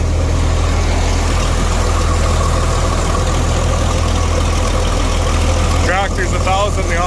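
A tractor engine idles steadily while running a grain auger, a constant loud low rumble throughout, with a voice speaking briefly near the end.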